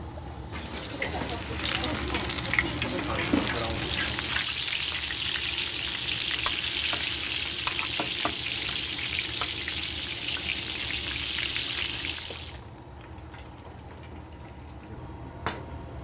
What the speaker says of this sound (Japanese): 冷蔵庫から出したての卵を熱々の沸騰したお湯にちょっと乱暴に入れる